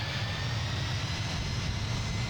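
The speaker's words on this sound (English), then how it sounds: "It's 4 times Pratt & Whitney F-117 engines on the run now." Four Pratt & Whitney F-117 jet engines of a C-17 running in Microsoft Flight Simulator 2020, a steady dense roar with a low rumble and faint high whine, constant and loud throughout.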